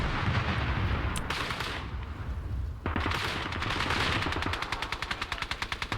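A DShK heavy machine gun firing in the video game Call to Arms, with dense rapid bursts among battle noise, ending in a clear rhythmic string of loud shots, without talk.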